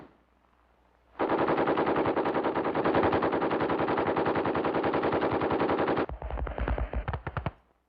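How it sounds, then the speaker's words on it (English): Heavy weapons fire a long, sustained machine gun burst of rapid, evenly spaced shots, loud and close for several seconds, followed by a shorter, choppier burst. "Working forward independently under covering fire from heavy weapons."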